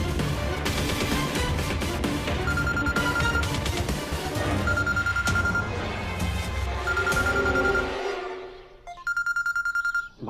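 A phone ringtone plays loudly, a melodic electronic tune with repeating beeping tones, briefly dropping away before resuming.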